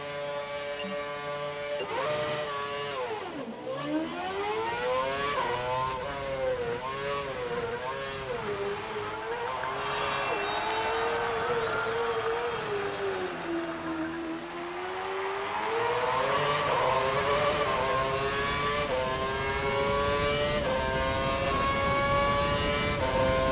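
A Formula 1 race car engine in F1 2012 screams steadily for over twenty seconds, its pitch climbing through repeated gear shifts, dipping under braking and rising again, loud and close without any talk.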